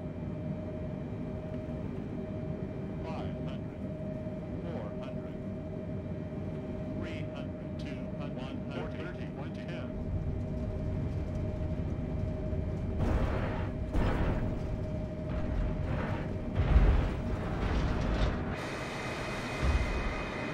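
A Boeing 747 lands at Lukla in Microsoft Flight Simulator 2020, its throttles stuck; a steady engine drone with a tonal whine builds into louder rumbling bursts and thumps near the end as the jet touches down.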